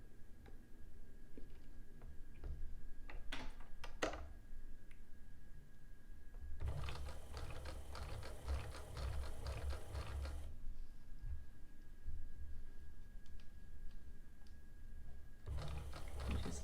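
A sewing machine stitching flat lace onto fabric for an heirloom bonnet, with a few soft clicks and then two bursts of quiet, steady mechanical whirring against a faint hum.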